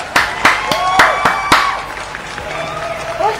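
A studio audience on a show claps for an actress with steady, evenly spaced claps over crowd murmur. The clapping thins out after a couple of seconds.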